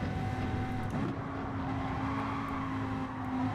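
Race car engine in Gran Turismo 7 after a spin, a steady droning hum with a sustained tone running throughout, fairly loud and unbroken, with no talk.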